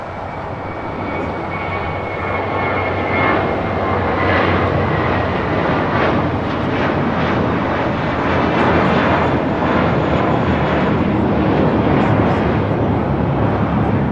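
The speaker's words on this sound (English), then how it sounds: "Got that JetBlue A321 now rolling down 25 right here on the south side." A JetBlue Airbus A321 jet airliner rolls down runway 25 at LAX for takeoff, its engines making a loud, steady roar that holds for the whole stretch without a break.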